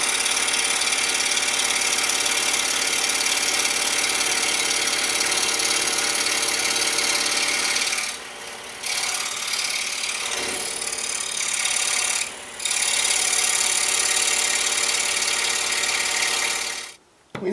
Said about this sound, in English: Now we're going to head over to the scroll saw and cut this out.